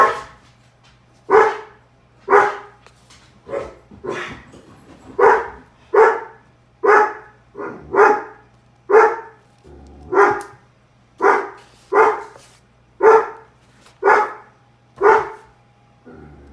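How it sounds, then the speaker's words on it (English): Dogs bark repeatedly at a neighbor up on a roof on a ladder blowing leaves, about a dozen loud, evenly spaced bursts close by with a steady low hum underneath, no talking. "My dogs are barking at my crazy neighbor who was on the roof"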